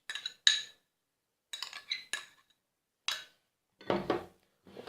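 Short, bright clinks of a utensil against a bowl as onion is added to grated turnip in a home kitchen, a few separate taps and scrapes with quiet gaps between them.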